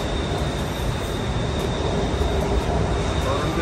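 A Bangkok metro train runs with a steady, loud rumble, close by and continuous, with faint voices mixed into the noise.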